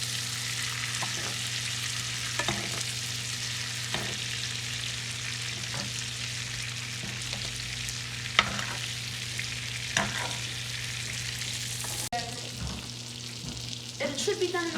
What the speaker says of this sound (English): you want to tilt the pan and you want to get all of that butter and put it on your steak